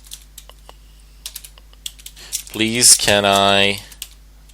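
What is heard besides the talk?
typing on a computer keyboard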